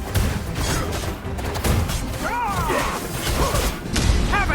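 Booming cannon blasts and crashes from the game Dragonheir: Silent Gods amid constant battle noise, with brief chirpy effects and shouted lines, loud and dense.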